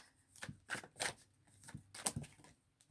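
Tarot cards shuffled and drawn by hand, a series of soft riffling flutters and slaps in separate bursts, close and fairly quiet.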